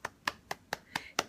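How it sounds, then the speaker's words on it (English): Six slow, evenly spaced hand claps ring out close by in a sparse, deliberate round of applause. "Let's put some round of applause."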